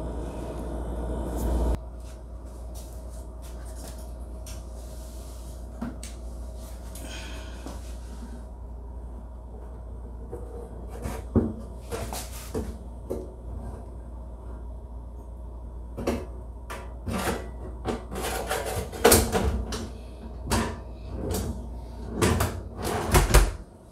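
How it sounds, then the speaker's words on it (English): Drawer of a Thor TRF2401U refrigerator being slid back into place, with a run of knocks, scrapes and clunks that grow busier and louder toward the end over a low steady hum. "Now I need to put the drawer back in"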